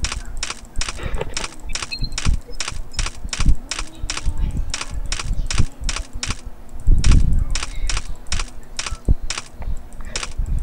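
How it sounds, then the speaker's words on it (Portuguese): Close, rapid typing on a computer keyboard: a steady run of crisp keystroke clicks with brief pauses, continuing for about ten seconds during a live stream. "Só digitando. Dá pra ouvir?"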